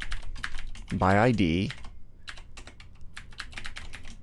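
Rapid clicking keystrokes on a computer keyboard as JavaScript code is typed, close and continuous, with a voice speaking briefly over the typing.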